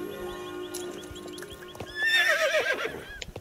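A horse in Star Stable neighs with a loud, shrill whinny near the end, preceded by soft clip-clopping hooves and quiet background music.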